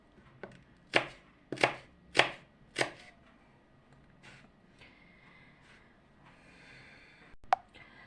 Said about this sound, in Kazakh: пиязымызды дәл қиярдікіндей қылып жұқалап тураймыз.